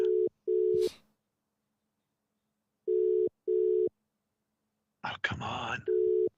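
A telephone call pulses with short repeated ringing or busy tones, two beeps at a time with long silent gaps, before a voicemail; a person briefly speaks and a rustling burst interrupts near the end.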